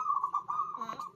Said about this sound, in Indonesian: lagi laras burung perkutut siang hari